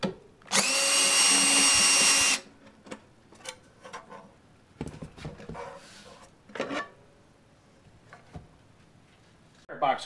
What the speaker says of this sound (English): You will use a number 20 Torx driver for this too. You press on the cover as you remove the screws.